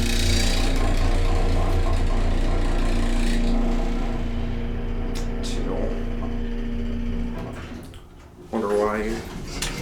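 A 1980s General Oiltronic hydraulic elevator at a La Quinta Inn runs with a steady low hum and a constant mechanical drone, settling toward the end before a brief rising tone; people speak at moments nearby.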